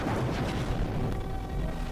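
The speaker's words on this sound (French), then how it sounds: "Ah en fait l'explosion quand elle part ça va" An explosion special effect from an old homemade video rumbles as a dense, continuous low boom, heavy and steady throughout with no distinct separate blasts.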